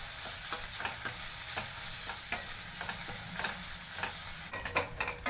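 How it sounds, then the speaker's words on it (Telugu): Sliced onions, green chillies and a little mint frying in hot oil for a Telangana-style chicken curry, a soft continuous sizzle broken by regular scraping strokes of a spoon stirring the pan, with no speech. "నూనె వేడైన తర్వాత కట్ చేసి పెట్టుకున్న ఆనియన్స్, పచ్చిమిరపకాయలు, కొంచెం పుదీనా వేసుకొని"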